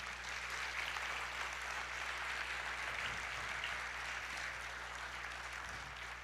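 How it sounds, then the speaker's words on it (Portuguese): A church congregation applauds during a Portuguese-language worship service, a soft, steady wash of many hands clapping heard from a distance under a low hum. "Vamos aplaudir ao Senhor."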